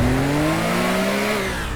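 A sports car engine revs in the video game Teardown, a smooth rising drone with climbing harmonic pitch, steady and moderately loud for a short burst with no other sounds.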